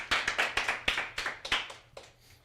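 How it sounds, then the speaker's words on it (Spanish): A church congregation claps during a worship service: a quick, steady run of sharp, close handclaps that thins out and fades over the final second. "Vamos a darle un aplauso a Dios entonces."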